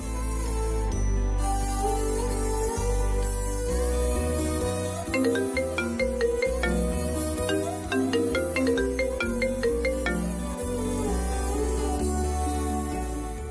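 Phone ringtone playing as a repeating melodic tone pattern, steady and fairly loud for over thirteen seconds, with no voices over it, in a Tamil television serial scene.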